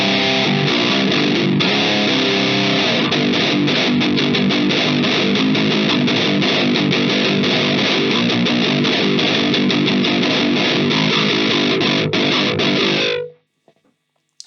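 An electric guitar played through an Oh My GOAT Klirrton distortion pedal gives a loud, thick, rounded distorted tone, chords ringing continuously for about thirteen seconds before cutting abruptly to silence.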